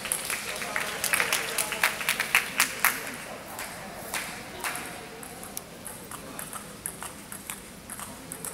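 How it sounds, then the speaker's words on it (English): Scattered hand clapping at a prize presentation for men's singles finals winners, sharp individual claps in uneven bursts that thin out over time, with people talking throughout. "Let's give them a round of applause."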